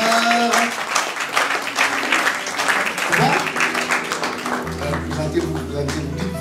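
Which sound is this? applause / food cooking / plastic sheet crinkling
applause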